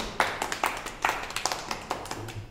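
A group claps for a phonics class activity, a string of sharp, fairly close hand claps in a loose, uneven rhythm, with no talk over them.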